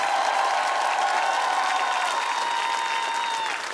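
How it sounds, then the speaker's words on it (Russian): A television show studio audience applauds a contestant's mother in a sustained, even wash of clapping with faint cheering, fading slightly at the end, while steady musical tones hang underneath. "Ирина, вам аплодисменты."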